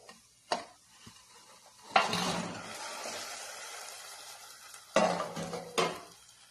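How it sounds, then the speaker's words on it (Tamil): A spoon stirs fried gulab jamun in sugar syrup in a pot, producing bursts of wet scraping and clinking against the metal with brief sharp knocks, alone and close by. "செகண்ட் டைம் பண்ணி வச்ச ஜாமுன் அதில் மிக்ஸ் பண்ணுற பாருங்க"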